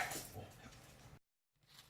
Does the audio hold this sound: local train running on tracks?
no